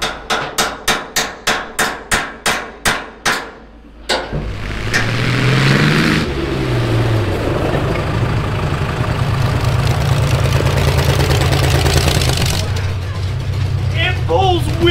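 A Snow Bombi vehicle starts with a run of sharp rhythmic knocks, then its engine roars up loudly and holds a strong, steady revving drone that dips briefly before climbing again.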